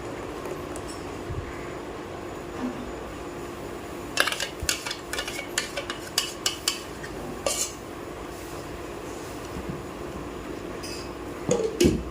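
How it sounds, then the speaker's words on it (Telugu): A spoon clinks and scrapes against a metal pan while stirring chutney in a burst, over a quiet steady background hum. "ఇంకా చట్నీ ఇందులో పోసేసుకుందాం బాగా గలబెట్టుకొని"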